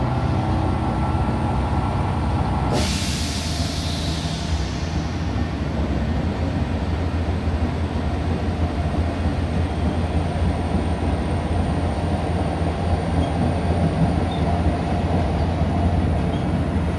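A passenger train runs steadily along a railway line, a loud continuous rumble and rail roar lasting throughout, with a brief hiss or burst of higher noise early on and no talking.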